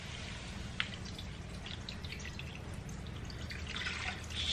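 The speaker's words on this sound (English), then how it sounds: "first thing they say to do is put water in it" Three cups of water are poured into a pot for a rice mix, producing a faint, steady trickle with light drips, and a couple of words are spoken.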